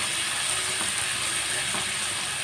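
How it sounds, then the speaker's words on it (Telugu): Onion pieces and green chillies frying in a pan for an egg, drumstick and dried prawn curry, an even, continuous close-up hiss and sizzle with faint clicking stirs and no talking. "ఇప్పుడు మనం ఉల్లిపాయ పచ్చిమిరపకాయ వేస్తాము. మనం కొంచెం వేపుకుందాం."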